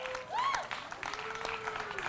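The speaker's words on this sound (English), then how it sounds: "Round of applause for Katie and all of our speakers tonight." Wedding guests clap for the speakers at an evening reception, a soft, steady patter of applause with a brief voice rising over it.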